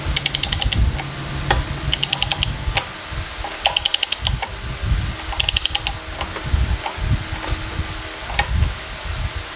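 A ratchet clicks in quick bursts while tightening the gland nut on an engine with a 1776 build, rapid metallic pawl clatters repeating every second or two alongside thumps of effort, close and loud.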